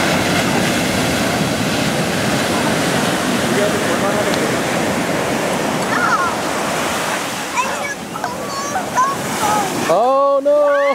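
Ocean waves wash in at a beach, a loud continuous surf roar that swells and recedes, with children's excited voices and shouts rising over the water toward the end.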